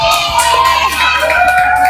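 Children in a classroom cheer loudly after group rankings in a magnet lesson, a bright, continuous mass of young voices shouting and celebrating close by, with clapping blended into the noise.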